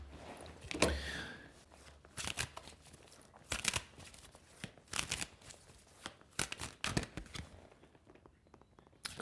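Tarot cards being shuffled and pulled from the deck, a series of close, crisp riffling and snapping bursts with irregular rhythm and brief pauses between.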